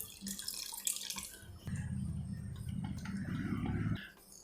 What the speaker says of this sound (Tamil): இதில் இன்னும் கொஞ்சம் தண்ணி விடுறேன்.